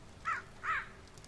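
Two loud crow caws, close and distinct, in the VR horror game Dead Secret, set against a quiet ambient background.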